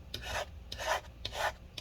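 A tool scrapes leftover serial-number-sticker adhesive off the case of a 13-inch Retina MacBook Pro A1502 (Early 2015), giving three close, rhythmic rubbing strokes with no voices.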